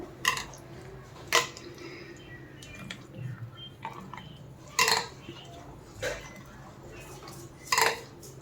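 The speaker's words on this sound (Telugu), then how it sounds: "తర్వాత వచ్చేసి మ్యాంగో వేస్తున్నాము. వేసి దీన్ని ఇలా కలిపేసుకుందాం." Mango stirred into fruit custard, a bowl of fruit and custard mixed by hand, giving soft wet squishes and several sharp spoon clinks against the bowl at irregular intervals, with no voices.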